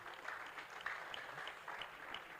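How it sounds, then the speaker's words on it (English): Audience at an academic lecture applauding the Vice Chancellor: steady, fairly quiet clapping from a hall crowd, sustained evenly for a couple of seconds with no talk over it. "Please clap for Madam Vice Chancellor."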